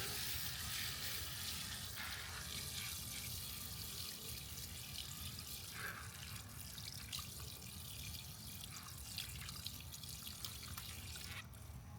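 Water pours in a steady, continuous splashing stream into a garden container soil planter outdoors, a soft even rush with faint drips and no talk.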